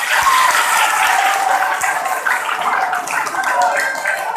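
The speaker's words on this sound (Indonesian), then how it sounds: "Ya, tepuk tangan untuk kita semua." Clapping and cheering from a seated audience at an Indonesian motivational religious talk, a dense, steady wash of many hands filling the whole stretch at close range.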